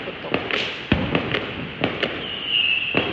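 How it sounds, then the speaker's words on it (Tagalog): Loud firecrackers set off for the last day of Chinese New Year, sharp irregular bangs going off several at a time over a steady hiss of background noise, heard at a moderate distance. "Yung malakas na putok."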